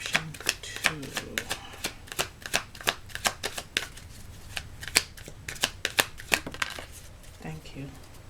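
Spirit animal oracle cards being shuffled, a steady run of crisp riffling snaps and flutters, close up, while someone talks over them.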